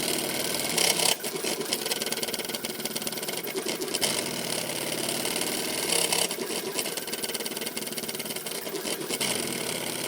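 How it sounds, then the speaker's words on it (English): An ultra fast 3D printer prototype runs at high speed and rattles loosely on a table, giving a dense, continuous mechanical buzzing clatter like a sewing machine, loud and steady throughout with brief surges in intensity. "all of that rattling goes away once I put my hand on here, because it's basically just flipping around on the table"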